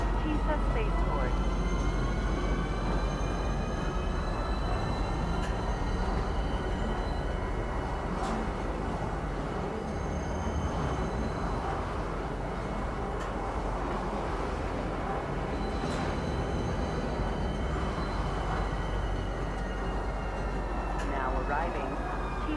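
A metro train in the Star Citizen video game arrives at Tisa Spaceport, a loud, continuous rumble layered with sustained tonal whines and occasional metallic pings, holding steady throughout.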